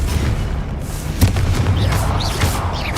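Blasting-spell explosion from Hogwarts Legacy gameplay: a deep, rumbling boom with a sharp burst near the middle, over continuous low game rumble and faint ambient effects.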